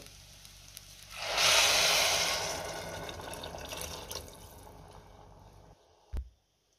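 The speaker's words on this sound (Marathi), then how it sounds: "पाणी घालूया।" Hot water poured into a pot of sautéed lentils and rice, a loud rushing splash that swells suddenly, then settles into a softer bubbling hiss before a brief clunk and silence.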